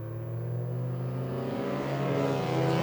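Youth production race cars racing at Greenstone Park Speedway, several engines droning and rising in pitch as they accelerate down the back straight, a steady mid-distance roar that swells toward the end.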